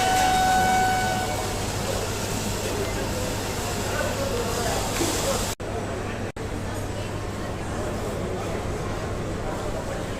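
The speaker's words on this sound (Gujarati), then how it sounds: "સામે જે ટ્રેન દેખાય છે ને, તે આપણી ટ્રેન છે." A passenger train stands at a station platform, giving a loud, steady rumble with a brief horn tone near the start and faint crowd chatter underneath.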